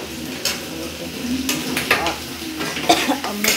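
Onion and turmeric fry in a pan on a home stove with a soft sizzle, broken by repeated scraping and clinking of a spoon stirring against the metal.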